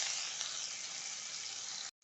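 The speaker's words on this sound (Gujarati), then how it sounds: "જીરાને આપણે તેલમાં સાથે સાંતળી લઈશું" Cumin seeds sizzle in hot oil in a pan, a steady bright hiss that stays loud and even for about two seconds, then cuts off abruptly to near silence.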